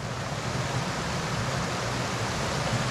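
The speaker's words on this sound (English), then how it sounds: "Ooh, a little waterfall." A small waterfall on a creek along a forest trail in Colorado, a steady broadband rush of falling water, continuous and fairly close with no voices.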